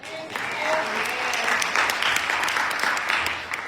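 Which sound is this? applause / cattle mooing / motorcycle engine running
applause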